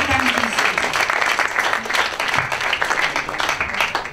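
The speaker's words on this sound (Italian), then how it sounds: "Facciamo un applauso" A dance event audience bursts into loud, dense applause, many hands clapping in a full, sustained roar close by, with faint voices mixed into the crowd.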